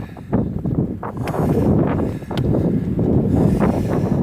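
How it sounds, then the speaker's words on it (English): Steady strong wind on a hilltop buffeting the microphone, a continuous rough roar with gusty swells and no voices. "It's windy up here."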